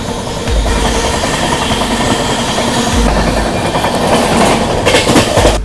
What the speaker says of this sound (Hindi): अभी अपनी यहाँ पे ट्रेन ओवरटेक करने वाली बारहवें से लेकर जम्मू तक चलने वाली शालीमार मेलानी एक्सप्रेस को।